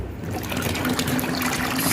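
Dirty water draining from an LG front-load washing machine into a bucket during a deep clean, a steady splashing trickle with some faint mechanical hum, continuous and close.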